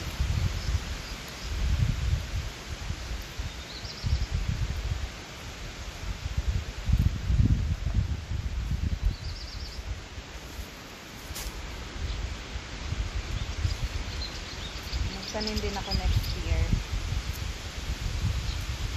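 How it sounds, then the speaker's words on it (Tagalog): Strong wind gusts through rustling leaves in surging waves while a person talks over it, outdoors at a small peanut harvest in Hungary. "Grabe, ang lakas ng hangin guys."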